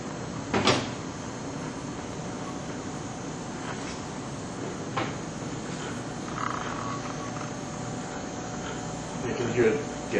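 Liquid helium transfer giving off a bottling sound: sporadic hollow, croaking pulses that rise and fade over a steady low hum, with a sharper burst near the start and another toward the end.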